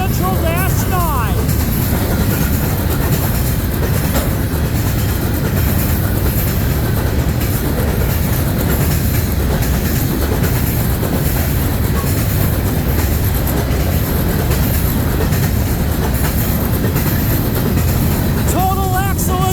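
CN freight train with locomotive 3967, a former Citirail unit, and EMDX 7218 running as B731 at Ladysmith, Wisconsin, passes close by as a loud, steady rumble of engines and rolling cars for the whole stretch, with brief squealing wheels near the start and end.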